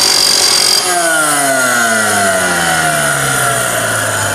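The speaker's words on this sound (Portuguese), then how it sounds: "Eu estou usando a esmerilhadora para fazer a limpeza" An angle grinder works over a weld bead on steel, cleaning the joint with a loud, steady whine that starts harsh and then settles into a continuous droning grind, close up and with no talk.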